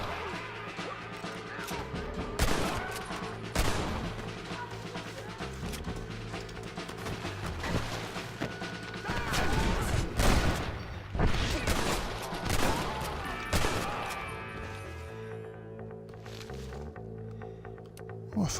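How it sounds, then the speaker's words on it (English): Rapid Winchester repeater rifle shots ring out in Red Dead Redemption, loud bursts of gunfire crackling over a dense, busy game soundscape with music, several sharp reports clustered throughout. "firing on a Winchester repeater"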